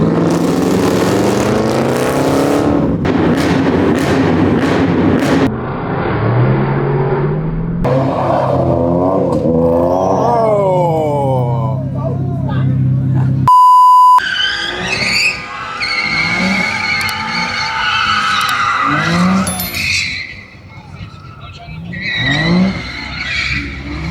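Dodge Charger muscle cars, including Hellcat and Scat Pack 392 models, rev loudly and skid in traffic after a car meet, with rising and falling engine roars, tire squeals and passing cars throughout.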